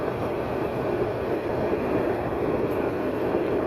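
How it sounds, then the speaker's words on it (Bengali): A Narayanganj commuter train passing through the Saydabad–Jatrabari area of Dhaka, a steady, dense rumble of wheels and carriages with no voices. "সায়দাবাদ যাত্রাবাড়ি এলাকা অতিক্রম করে যাচ্ছে এই নারায়ণগঞ্জ কমিউটার ট্রেনটি"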